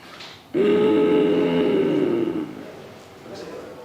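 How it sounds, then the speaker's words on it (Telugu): Ujjayi pranayama throat breathing makes one long, constricted, droning exhale from the throat lasting about two seconds, close and fairly loud, then fades into soft breath. "ఉజ్జయి ప్రాణాయం ఏంటంటే ఈ కంఠంతో చేయాలన్నమాట"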